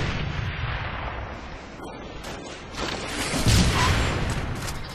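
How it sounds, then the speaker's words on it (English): A bomb detonating in a Halo Reach multiplayer match, a heavy rumbling explosion with crackling bursts that swells louder partway through and rolls on to the end. "Bomb detonated."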